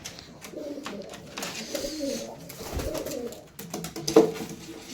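Pigeons cooing softly in a loft, low murmuring coos running steadily throughout with faint rustling and a brief sharper sound near the end.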